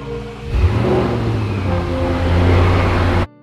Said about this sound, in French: Nous pourrons alors entendre exactement le son de l'échappement.